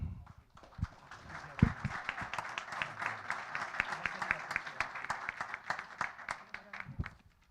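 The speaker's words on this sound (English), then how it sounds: "we do a lot of clapping here tonight" Audience at a school board work session clapping for students: a few scattered claps build into a round of moderate applause with distinct hand strikes, then stop abruptly.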